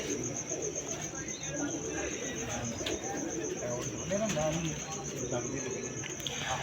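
Pigeons cooing nearby in a loft, soft low coos scattered through steady insect chirring and background noise, with someone talking over them.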